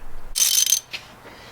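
Ratchet turning out 10 mm bolts on the throttle body of a Jeep Compass: one loud, bright burst of clicking, then a short second burst, close and alone.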